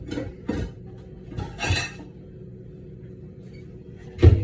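Plates and dishes clink and clatter in a home kitchen as a plate is pulled out, a few separate knocks spread apart, with a sharper clank at the end.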